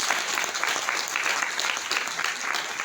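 An audience at a DXN company event gives loud, continuous applause for the company founder, a dense roomful of clapping with a few faint voices beneath.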